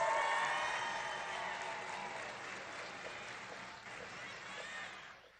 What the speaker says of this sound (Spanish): Un aplauso a todas y a todos ustedes